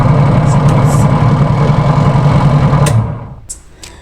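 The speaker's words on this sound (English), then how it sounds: "the pulsator will just begin spinning" A Ramtoms RW 115 washing machine runs with a loud, steady low rumble and drone as its pulsator spins, holding constant for about three seconds before dropping off sharply into near quiet with a few faint clicks.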